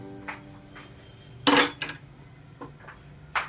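Crispy fried chana dal rattling against a metal vessel, a few sharp clattering bursts with one loud shake and smaller rattles after, close and dry with quiet pauses between.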